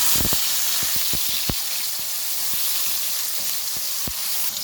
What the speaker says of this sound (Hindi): अब इसके अंदर हम शामिल कर देंगे टमाटर